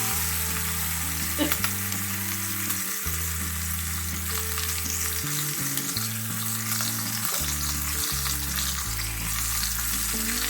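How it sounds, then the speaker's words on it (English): Bacon sizzles and crackles steadily in a hot pan, a constant hissing fry with no voices present. "please don't let me get fried by the bacon"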